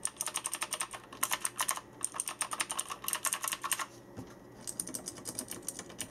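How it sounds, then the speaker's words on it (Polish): Typing on a Poseidon Z mechanical keyboard with Kailh blue switches: rapid, crisp clicky keystrokes in dense bursts with short pauses, recorded close and without any talking. "Porównajcie sobie to niebieskimi przełącznikami Keil z klawiatury Poseidon Z."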